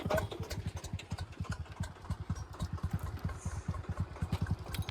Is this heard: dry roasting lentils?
no